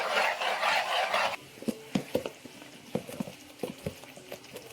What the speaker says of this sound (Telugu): సరిపోయేంత గల్లుప్పు వేసేసుకొని బాగా కలుపుకొని